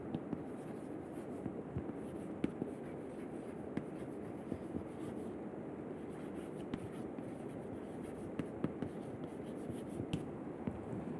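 Chalk or marker writing on a board during a thermal gradient lecture, producing steady faint scratching strokes with occasional taps, quiet and close in a room with no talking.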